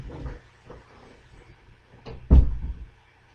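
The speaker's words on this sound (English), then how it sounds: "The cat came in and opened the door." A door nudged open by a cat, a soft creak and low rattle followed by a louder thump and brief rumble as it swings, alone in a quiet room.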